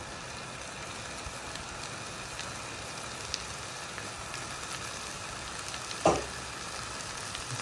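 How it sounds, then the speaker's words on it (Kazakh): Tripe and onion frying in a pan for a hot Kazakh salad, a steady close sizzle with a single louder clatter of stirring near the end. "Қарын салып тағы қуырамыз"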